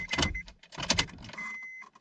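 A faulty ignition switch on a 2003-2007 Honda Accord that won't start makes clicking and whirring electrical bursts when the key is turned, followed by a thin steady buzzing tone, close and fairly quiet, with no talk.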